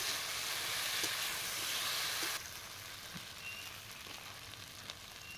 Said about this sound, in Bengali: আদা রসুন বাটাটা দিয়েও আমি খুব সুন্দর করে কষিয়ে নেব কিছুক্ষণের জন্য